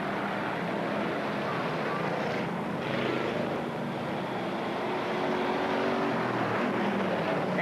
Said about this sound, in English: And the lead cars charge down and around.